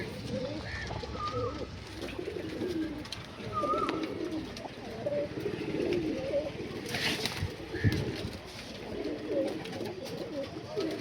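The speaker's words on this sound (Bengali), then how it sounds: "এই যে পায়রাগুলো বন্ধুরা।" Malwai pigeons in a pigeon house coo steadily over a busy backdrop of other birds, with low rolling calls overlapping near the microphone and a brief flutter partway through.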